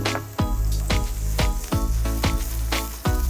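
Chopped onion and green chilies fry in a hot pan with a steady, loud sizzle. Several regular thumps or scrapes of stirring recur about every half second, with no talk over it.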